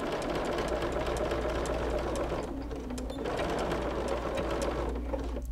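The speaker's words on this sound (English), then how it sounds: "So I'm just gonna back stitch here, stitch all the way from one corner to the other." A sewing machine back stitches a quilt binding made with Cuddle and Minky fabric, running as a steady, continuous close mechanical whir with no talking.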